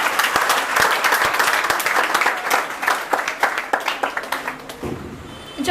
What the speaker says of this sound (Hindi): ताली बजानी है क्या हमें?